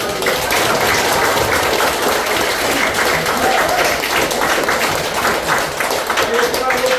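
Loud continuous applause from the audience at a horse culture guide graduation ceremony in Jeju, a thick unbroken roar of clapping with voices mixed in beneath it.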